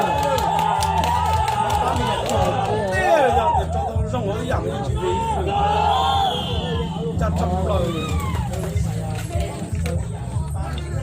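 Crowd at a sports match cheering and shouting, a dense noisy babble of many voices with rising calls and yells over continuous background commotion, lively and close.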